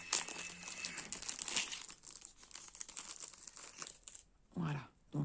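Plastic packaging of curved tweezers from a diamond painting toolkit being opened, with crinkling and tearing rustles close up, partly under a voice speaking.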